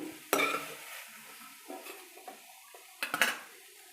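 A cooking pan is set down on a stove with a sharp metallic clank, and oil is poured in, followed by a few softer knocks and scrapes of metal kitchenware, close and fairly quiet.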